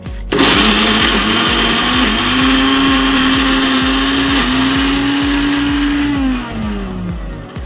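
A mixer grinder whirs loudly and steadily as it grinds gongura chutney with garlic, cumin and salt in its jar, a close motor whine holding pitch for several seconds before winding down at the end.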